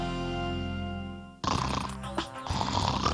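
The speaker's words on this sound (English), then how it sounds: "I snore so loud that it wakes myself up." Loud, rasping human snore, a long harsh breath rattling close and dominant after a steady low drone, with a sharp onset and brief snorting catch.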